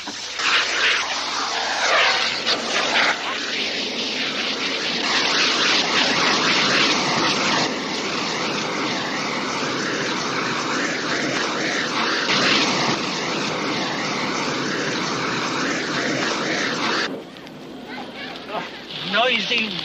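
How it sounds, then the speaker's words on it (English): Jet aircraft engine roars through takeoff, a loud sustained sweeping roar lasting many seconds before it drops off suddenly near the end, with voices speaking over it. "Noisy, rotten jet."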